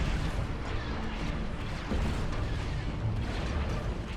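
A Mandalorian Star Destroyer blows apart in a large explosion during a Star Wars space battle: a dense, sustained roar of blasts and rumbling booms that stays loud and unbroken throughout, with no voices.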